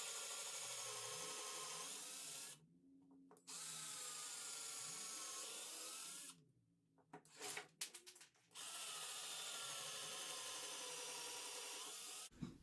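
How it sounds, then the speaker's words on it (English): An electric drill with a bit bores out holes in a succulent garden planter, running in long steady whining stretches broken by brief pauses and rattling handling noises; close and continuous, with no talking. "you take your drill with a drill bit similar size to this, and you drill out the center"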